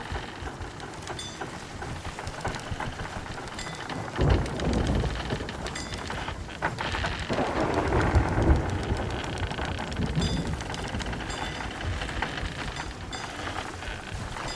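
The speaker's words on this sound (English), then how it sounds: "they updated the sounds that the ship makes in the storm" A storm rages around a wooden ship in Sea of Thieves, with steady rain, wind, low rumbling swells and creaking timbers, loud and constant throughout.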